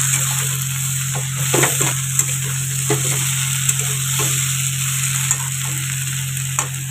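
Fish frying in a pan, a steady close hiss of oil with a constant background hum and occasional sharp crackles and spatula taps, loud and unbroken with no talking.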